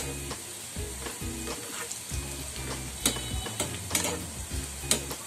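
Gram-flour bundi batter fries in hot oil for a sweet bundia, giving a steady close sizzle with light crackles and a few sharper ticks from the strainer, with no talking.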